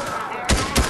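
Two heavy gunshots from a Fortnite match, spaced about a third of a second apart, land loud and close over a busy background of game noise and faint voices.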